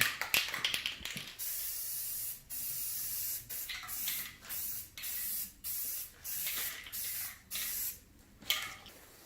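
An aerosol can of general-purpose semi-gloss black paint sprays a concrete tabletop in a series of short hissing bursts with brief pauses between, close and fairly quiet.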